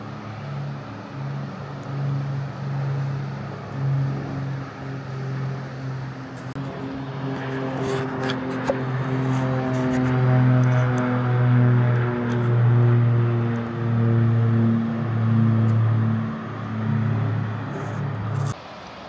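Two propeller sightseeing planes pass overhead one after another near Mt Denali, a steady droning engine hum that swells and grows louder midway, with rising harmonic whine as they come closer, and no talking.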